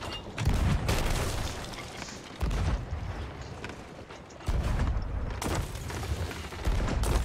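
Ship cannons in the Sea of Thieves video game boom in a series of heavy, loud blasts, each followed by rumbling decay, spaced a second or two apart, with creaks of wood between shots.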